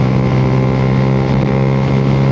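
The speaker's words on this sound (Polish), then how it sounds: "Dobra, wyprzedzamy tira." 125cc motorcycle overtaking a truck on the road, a loud steady engine drone mixed with heavy wind rush at the helmet, close and continuous.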